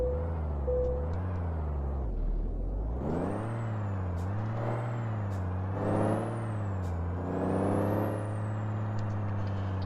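A Kenworth truck engine in Euro Truck Simulator 2 cranks and rumbles to life, its deep idle rising and falling as it revs, with a faint hiss and whine on top.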